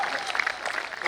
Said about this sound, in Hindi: एक बार तालियां वालियां बजा दीजिए आप।